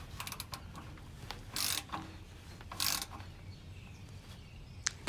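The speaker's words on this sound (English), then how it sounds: "Get it snug with a regular socket wrench." Someone snugs the differential fill plug of a Toyota 4Runner with a socket wrench, a faint ratcheting click coming in short bursts amid quiet handling noises.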